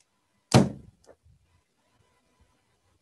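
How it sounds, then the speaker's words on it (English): A carbide cannon fires inside a carved pumpkin, one sharp loud whump followed by a decaying rumble and a few faint knocks, then a second burst starts at the very end. "when we least expect it, we have our carbide cannon reaction"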